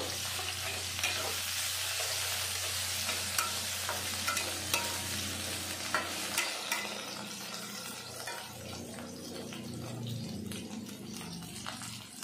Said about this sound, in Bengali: হলুদ গুঁড়ো, দিয়ে বড়িটা ভালো করে ভেজে নেব